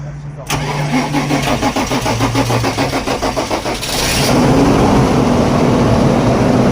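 A Fendt 724 tractor's diesel engine cranks with a rapid rhythmic chugging for several seconds on a cool morning, then catches and settles into a loud, steady running roar close by.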